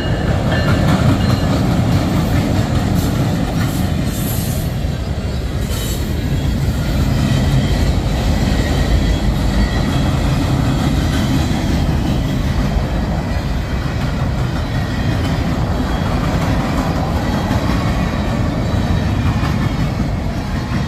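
CN freight train L551 rolling past at Burlington West, a loud, steady rumble of rail cars with rhythmic clickety-clack from the wheels over the joints, continuous for the whole stretch with no talk.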